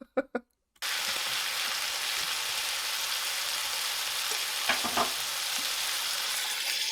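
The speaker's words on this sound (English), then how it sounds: "Hear that sizzle? Do you hear it? Oh, it's a beautiful sound." Country ham sizzles in a frying pan with a steady, dense crackle, close and continuous. A couple of soft clinks come before it starts and some brief pops come partway through.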